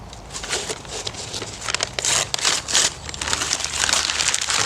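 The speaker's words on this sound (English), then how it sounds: "let's rip this target off" Crinkling, crackling tear as the face is ripped off a homemade expanding-foam archery target, a close, continuous run of dry crunches and snaps that swells louder midway and stays busy to the end.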